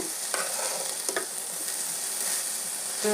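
Chopped garlic frying in a fig (dumur) vegetable bhaji, a loud, steady sizzle close up with light stirring scrapes through it and no talk.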